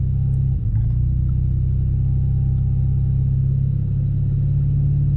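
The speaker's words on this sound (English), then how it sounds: "Build up our RPMs." A Dodge Challenger RT Scat Pack 1320 staged at a drag strip holds steady high revs on the line lock, giving a loud, close, sustained rumbling drone with a brief dip early on.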